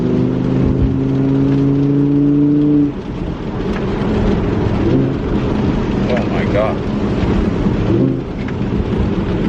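Rumbling exhaust of an Audi R8 V10 Plus or McLaren 650S Spider in heavy rain, with loud engine drone and pitch shifts from revving during downshifts, under constant rain noise and a voice talking.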